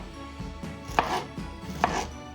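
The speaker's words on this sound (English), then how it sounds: "And then I just slice into it." A knife chops down through a peeled pineapple in two firm, crisp strokes about a second apart, each a sharp close cut against a quiet kitchen background.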